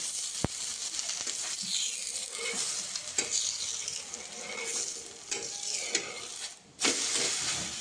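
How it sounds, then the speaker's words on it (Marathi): Poha thalipeeth frying in oil on a pan, a steady close sizzle running throughout with a few sharp clinks and scrapes, and a louder crackling burst near the end. "तेल टाकून घेऊया साईडनं"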